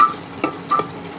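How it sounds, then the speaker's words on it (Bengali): Onion and green chillies sauté in a pressure cooker, sizzling steadily up close, with two short stirring scrapes breaking the hiss. "অল্প করে একটুখানি সতে করে নিচ্ছি।"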